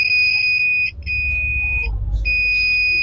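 A homemade magic tester beeps while a diode is checked: a loud, steady high-pitched electronic tone, cut briefly twice, with a low rumble of handling noise underneath.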